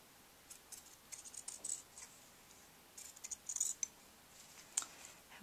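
Scissors snip through quilting fabric around a template, a quiet run of short crisp cuts in two clusters with brief pauses between them, close by and alone.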